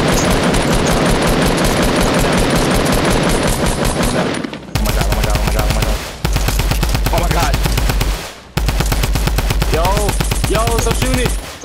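Loud, dense bursts of automatic gunfire from Fortnite, rapid rattling volleys that stop and restart in several separate strings.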